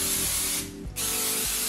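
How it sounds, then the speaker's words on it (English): Cooking spray hisses onto a baking pan in a nearly continuous close, loud spray with one brief break, while a steady hum runs underneath. "I'm gonna go ahead and spray this with the little cooking spray"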